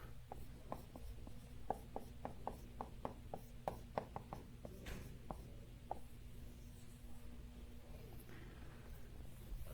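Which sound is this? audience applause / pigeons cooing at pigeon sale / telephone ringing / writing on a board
writing on a board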